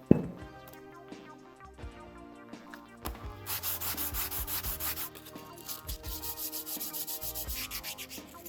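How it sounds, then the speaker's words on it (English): Sanding the wooden stock of a Winchester Model 37A rifle with 320 grit sandpaper: a steady, close rhythmic rasping of strokes that starts quietly and grows louder and more even, with no voices. "So now we're gonna go ahead and sand that stock."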